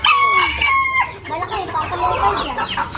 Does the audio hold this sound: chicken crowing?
yes